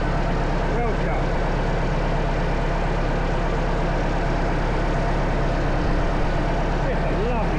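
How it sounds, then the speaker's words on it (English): Vintage Lansing Bagnall Model A engine running steadily at close range, a continuous low throbbing idle with mechanical clatter, no talk over it. "It's a lovely sounding engine."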